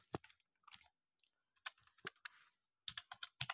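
The word freelancer is typed on a computer keyboard: quiet, close key clicks in quick irregular bursts with short pauses, and no voices.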